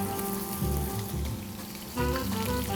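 Quail lowered breast side down into hot oil in a pan, frying with a dense crackling sizzle that swells in bursts as each bird goes in, close and loud without talk.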